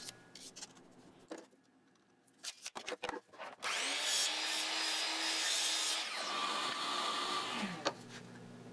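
Power saw cutting small wooden side pieces for a shop dust collection hood: a few short bursts and knocks, then one sustained loud whining cut lasting several seconds before winding down.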